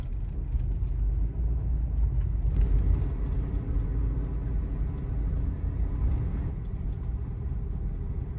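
A 2000–2006 Chevrolet Tahoe with a 3-inch front suspension drop rolls slowly around a corner, giving a steady low engine and road rumble heard from inside the cab, with no talking.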